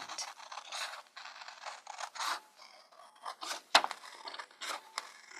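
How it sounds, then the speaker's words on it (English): Scissors cutting along a printed line of a paper winter hat pattern, heard up close as a series of crisp snips and scratchy paper scrapes in short uneven bursts, with no talk. "let's follow the line and cut"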